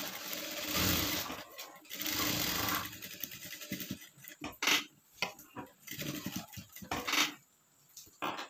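A sewing machine stitching blouse fabric whirs in loud continuous bursts, then breaks into shorter uneven runs and clicks as the cloth is shifted, close and without speech.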